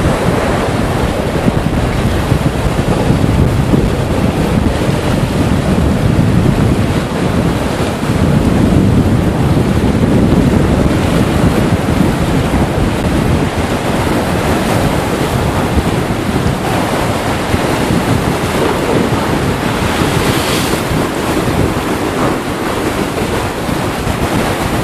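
Sea waves breaking at high tide at Minnis Bay in Thanet on the North Kent coast, a steady loud roar of surf with wind buffeting the microphone throughout, no voices.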